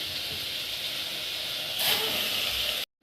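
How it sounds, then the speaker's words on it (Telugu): Vegetables and ginger frying lightly in oil give a steady, close hissing sizzle that swells briefly toward the end before cutting off abruptly. "లైట్గా గోలించుకోవాలి నూనెలో"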